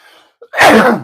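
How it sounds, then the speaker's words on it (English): A single loud, close sneeze with a brief sharp intake of breath just before it. "I'm gonna sneeze, y'all."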